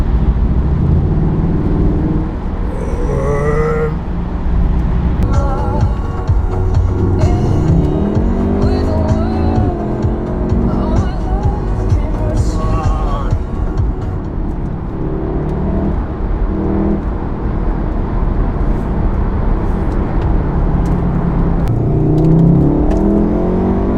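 A Volkswagen Golf Mk7 R drives in race mode with its exhaust flap open, the engine loud and close as it rises and falls through repeated revving accelerations and gear changes over road and wind noise.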